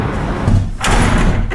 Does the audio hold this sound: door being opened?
yes